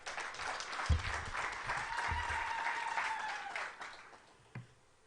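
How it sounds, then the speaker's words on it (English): Applause for the president at the NAMRA launch ceremony: a crowd claps steadily for about three seconds and then fades, with a sustained whistle-like tone running through it and a few low thumps. "A round of applause for our President."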